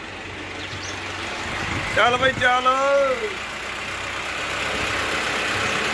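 A tractor engine idles low and constant throughout before sowing fodder, while a voice calls out briefly near the middle.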